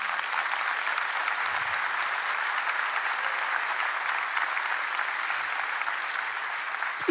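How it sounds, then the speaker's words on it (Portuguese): A church congregation breaks into steady, sustained applause that fills the room at an even level, with no voices over it, for the whole stretch. "Dê um aplauso para ele."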